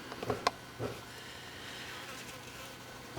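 Bees buzz around dahlia flowers, drifting through the quiet, with a couple of brief louder buzzes near the start before a steady faint hum.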